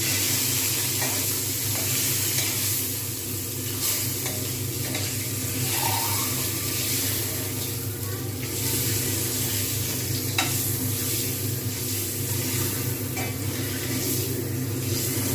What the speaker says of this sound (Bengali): যতক্ষণ পর্যন্ত না একটু ভালো মতো ভাজা হয় ততক্ষণ পর্যন্ত আমি কিন্তু অপেক্ষা করব, এদিক ওদিক করে ভাজবো।